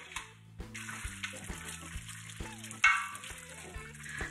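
A stew with added water simmers in a pot over medium heat, giving a soft, steady bubbling with occasional light clinks and a brief louder splash partway through, with no talking.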